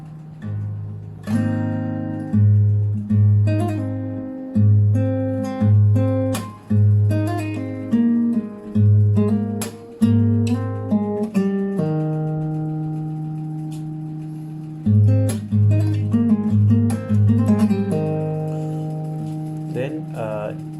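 An acoustic-sounding guitar plays a slow riff from a song, with plucked notes and pull-offs over a repeating low bass note, clear and close with short pauses.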